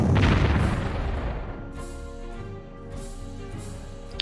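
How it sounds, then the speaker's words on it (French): Artillery fire from a video game: a loud deep boom opens and rolls away over a couple of seconds, followed by a long low rumbling tail with faint distant thuds. "j'ai tiré avec l'artillerie."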